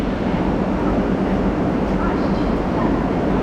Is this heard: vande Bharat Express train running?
yes